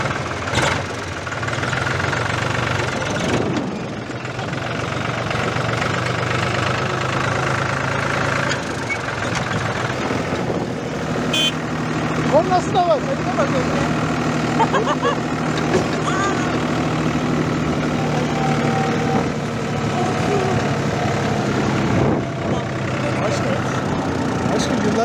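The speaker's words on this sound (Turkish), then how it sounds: "Traktör bizim şimdi, biz gidiyoruz." A tractor engine chugs steadily as it pulls away on a rural village route, a continuous mid-low rumble with knocking under frequent nearby talk and a voice.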